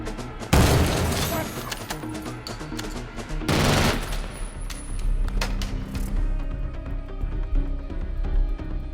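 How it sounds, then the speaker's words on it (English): Loud bursts of gunfire crack out in rapid volleys over a dense, booming film soundtrack from The Dark Knight, with heavy impacts and rumble throughout. "I used the sound of the gunshots to effectively bring in the transition"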